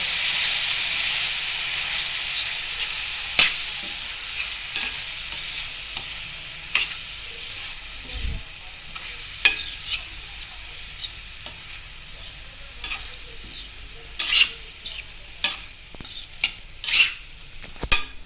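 Fenugreek leaves and field beans being stirred in a frying pan, a gentle continuous hiss of cooking under sharp metallic clinks and scrapes of a utensil against the pan at irregular intervals.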